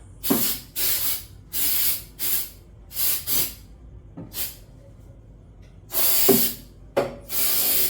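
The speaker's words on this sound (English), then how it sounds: "I'm going to use some pyro" Repeated short bursts of aerosol pest spray hiss loudly up close into cupboard creases, each lasting under a second, separated by brief pauses.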